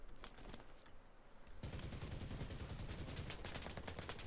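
Rapid machine gun fire rattles in the shooter game CRSED: F.O.A.D., dense sustained bursts that grow louder and continuous partway through, with no talking over them.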